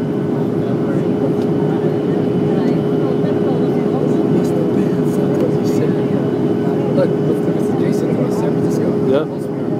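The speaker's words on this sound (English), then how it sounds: "So the airplane landing," Steady loud cabin roar of an airliner on landing approach into the Bay Area, a constant engine and airflow drone with a fixed tone, continuing unbroken until a brief dip near the end.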